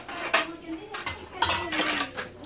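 Plates of soup served during a family lunch, with ceramic dishes and spoons clinking in several sharp knocks against one another, close by, while people talk over the clatter.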